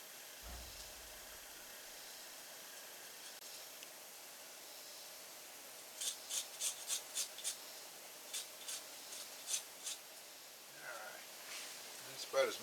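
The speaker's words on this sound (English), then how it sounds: "just get the green part of your zest. That's what you're looking for." A zester scrapes the green peel off a lime in a quiet run of short, rhythmic rasping strokes, about eight in a row, over faint background hiss.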